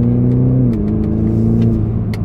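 A BMW Z4 20i roadster, a small 197 hp car barely run in, drives on a circuit with its engine humming steadily and loudly, pitch shifting slightly as it pulls, no voices.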